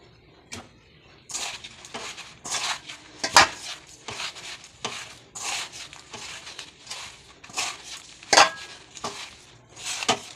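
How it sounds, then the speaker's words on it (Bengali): Sugar and mango are worked together by hand in a bowl, a series of close, wet squelching and scraping strokes in an uneven rhythm with occasional sharper knocks against the bowl, no talk. "ভালো করে মেখে নিই, দেখো মেখে নিয়েছি"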